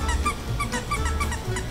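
A squeaky rubber pet toy is squeezed over and over in a quick, irregular run of short honking squeaks, close and fairly loud, with no talking.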